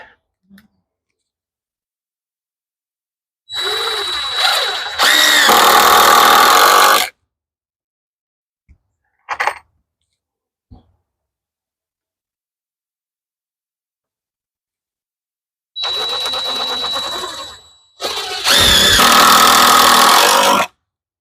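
A power drill drives deck screws into wood in two separate bursts, each a rising motor whine followed by a loud grinding run of several seconds, with quiet gaps and no talk.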